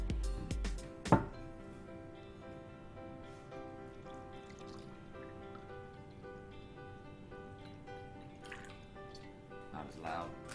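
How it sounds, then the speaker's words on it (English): Scotch whisky pours into a glass with a brief splashing trickle near the start, followed by faint dribbles while people talk over a quiet background. "Maybe Scotch doesn't pour the same as wine."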